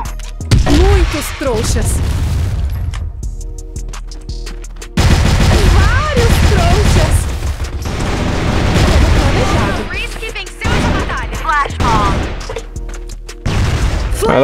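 Gunfire and explosion bursts from a video game firefight, with a grenade blast among them, loud and dense throughout, overlapping with excited talking from players.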